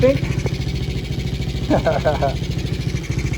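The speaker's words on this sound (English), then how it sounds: "I think it's transmission noise, but we'll get some riding out of it" A running 50cc kid's quad with suspected transmission noise, its engine droning steadily and fairly loud throughout while someone talks over it.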